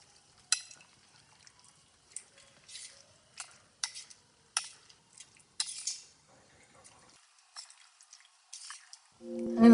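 Cooked pasta going into a pan with chicken, heard as a string of soft wet clacks, scrapes and drips from a spoon or tongs at irregular intervals, quiet and close, ending in a louder low tonal sound.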